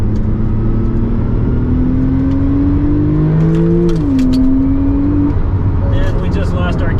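A 2016 Porsche 911 Turbo S engine roars and climbs in pitch as it accelerates hard in Sport Plus mode onto a merge lane, loud and close, with a gear change midway and wind noise throughout.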